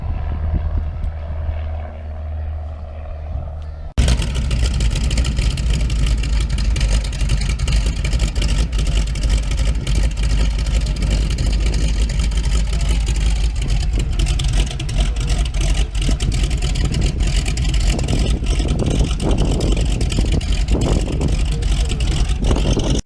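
A Boeing Stearman biplane's engine roars as the civilian aircraft takes off, a sudden loud, steady propeller drone that kicks in after a few seconds of quieter low rumble and holds strong to the end.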